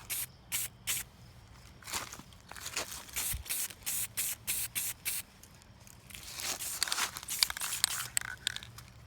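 An aerosol spray can applying paint to an airsoft gun, hissing in a rapid series of short, close bursts separated by brief pauses, then a longer, rougher stretch of spraying toward the end.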